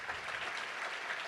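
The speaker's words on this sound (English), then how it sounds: "Let's give a big round of applause to all of our volunteers." An audience at a touchdown club luncheon applauds volunteers, a steady round of clapping from a roomful of people, even and continuous.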